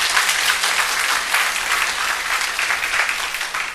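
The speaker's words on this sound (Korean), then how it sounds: "정말 우리 성가대로 해서 박수 한번 더 쳐주시기 바랍니다." A small church congregation applauds its choir during a service, a dense, sustained round of clapping that stays full and even throughout before easing slightly at the end.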